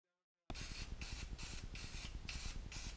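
Aerosol lubricant sprayed onto the hood latch assembly of a 2003 Mustang Cobra, starting abruptly after a moment of silence and hissing loudly and steadily in close, pulsing bursts.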